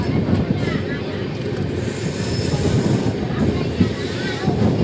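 22959 Intercity SF Express picking up speed out of Surendranagar Junction, a steady loud broadband rumble of rolling wagons with faint rhythmic wheel clatter and occasional squeal, continuous throughout.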